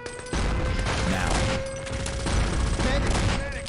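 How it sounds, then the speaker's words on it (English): Grenade blast and sustained gunfire in Wolfenstein: Enemy Territory on the Beach map, a loud, dense barrage of shots and booms that stays constant and close throughout with a tonal game hum underneath. "I'm gonna get hit by a grenade right about"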